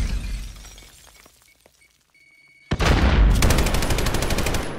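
Gunfire in the video game Modern Warfare: scattered shots and clattering debris, a brief lull, then a sudden loud burst into sustained rapid automatic fire that keeps going, close and harsh.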